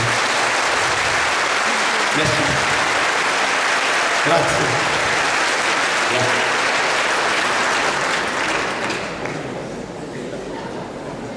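Loud, continuous applause from a concert audience at a live band performance in Mulhouse, filling the space before tapering off near the end, as a performer briefly says thanks over it.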